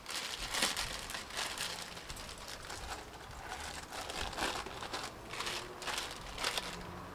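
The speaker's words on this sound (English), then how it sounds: "and then stick them in a bag" Used brake pads from a Land Rover Discovery 1 front axle, stacked and slipped into a plastic bag, producing close, continuous crinkling and rustling of plastic with no talking.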